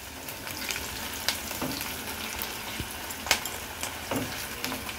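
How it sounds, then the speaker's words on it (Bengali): Crab sizzling and frying in a pan with chopped onion for a spicy masala crab, a steady crackle broken by occasional sharper pops and stirring clatters, close and fairly quiet with no talking. "একটু হালকা লাল করে ভাজবো।"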